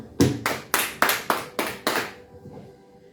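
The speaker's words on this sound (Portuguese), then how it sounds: "Glória a Deus, aplauda o Senhor." A church congregation claps in praise during a worship service, giving seven sharp, evenly spaced claps that fade out at the end, with no talk over them.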